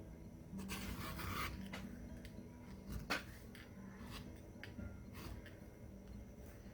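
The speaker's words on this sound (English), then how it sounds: "I'm going to be using this edge beveler." An edge beveler is dragged along the edge of a handmade Wonder Woman circlet, giving faint, soft scraping strokes repeated at close range in a quiet room.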